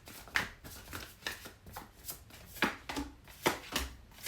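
Tarot cards being shuffled by hand, a quick irregular run of crisp riffling slaps and taps, close and clear with no voice over it.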